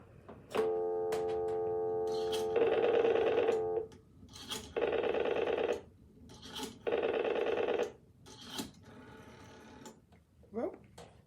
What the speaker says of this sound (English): if I do the same thing on a rotary phone, it's going to take a little bit longer